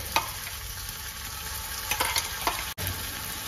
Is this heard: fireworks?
no